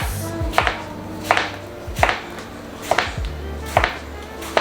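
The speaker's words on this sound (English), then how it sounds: "we're gonna cut it down the middle. Then cut it once more. Then we just make little triangles." Knife chopping through steak salad ingredients on a cutting board, cutting them into triangles: crisp, evenly spaced cuts, about seven in a steady rhythm, close and clear with no talk.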